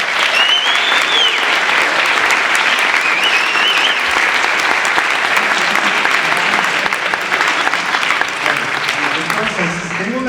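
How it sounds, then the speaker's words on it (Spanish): A seated audience at a panel talk on Pedro Páramo gives loud, sustained applause to welcome the actor Ari, the dense clapping running throughout while a voice speaks faintly underneath. "Bienvenido, Ari, también aplausos."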